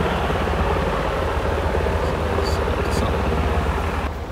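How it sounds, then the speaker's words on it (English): Helicopters land at a nearby Navy base, a steady broadband rotor and engine roar that fills the whole clip, with a few brief higher tones over it. "The Navy base is right behind me, so a little bit of noise, some helicopters landing."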